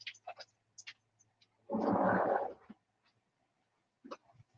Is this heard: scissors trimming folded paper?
no